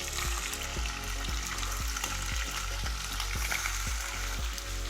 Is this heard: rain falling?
no